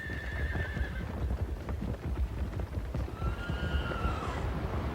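A herd of more than 2,000 horses on the move in spring: dense clip-clopping hooves fill the scene while two distinct whinnies ring out, one early and one later, with no voices.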